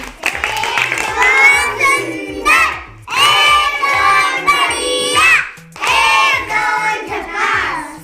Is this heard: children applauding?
yes